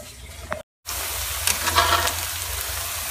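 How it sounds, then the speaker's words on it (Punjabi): Chopped onions sizzle loudly in hot oil in a kadai as a tempering for a ridge gourd sabzi. The crackle breaks off for a moment and then resumes, steady and close. "ਕੜਾਹੀ 'ਚ ਪਿਆਜ਼ ਵੀ ਤਿਆਰ ਆ ਇਹਦਾ ਪਹਿਲੇ ਤੜਕਾ ਲਾਵਾਂਗੇ"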